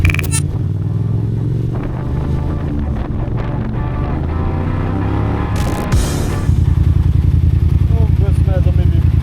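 A moving motorcycle with a mysterious rattle gives a steady, loud engine drone under heavy wind buffeting, and a brief sharp clatter cuts in near the end as the engine note rises. Riders' voices can be heard.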